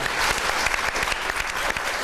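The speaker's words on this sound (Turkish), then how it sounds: "Bir alkış rica ediyoruz onlara." A crowd claps steadily and evenly throughout, a dense wash of applause with no voices standing out.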